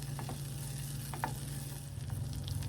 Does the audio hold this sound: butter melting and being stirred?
yes